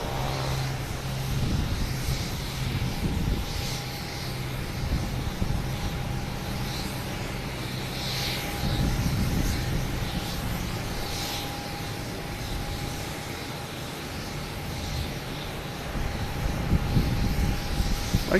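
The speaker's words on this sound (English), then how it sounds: "Here's Delta from San Francisco and A321neo." Delta Airbus A321neo from San Francisco at Boston Logan, a low, steady jet engine rumble with a sustained whine tone, swelling slightly at times, fairly distant and without talk.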